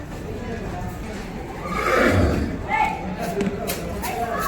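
A mare neighs once in a drawn-out whinny near the middle, fairly close, with people talking around it.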